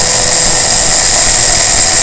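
A small 7-watt electric motor runs under load, giving a loud, steady, unbroken whine and hum that stays constant throughout, with no voices.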